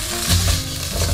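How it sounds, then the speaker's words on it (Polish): Bacon rendering its fat in a pot, giving a dense, steady sizzle and crackle that is close and loud through a short stretch, with no talking. "No więc do garnka najpierw wrzucam boczek. No i będziemy go wytapiać."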